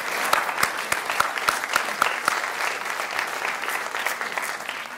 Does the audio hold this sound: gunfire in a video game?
no